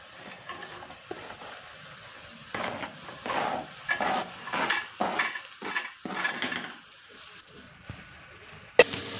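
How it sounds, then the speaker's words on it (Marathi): Vegetables (capsicum, carrot and spring onion) stir-fried in oil for veg manchow soup, with irregular bursts of sizzling and scraping that swell in the middle and end in a sharp clatter of the utensil against the pan. "तेलावर मस्त परतवून घेऊया भाज्या।"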